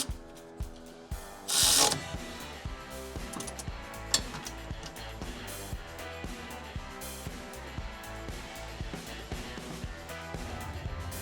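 Socket ratchet on a 9/16 socket tightening a receiver anchor bolt on a Ford F-150, rapid close clicking pawl strokes in steady repeating bursts, with one brief louder rustle early on.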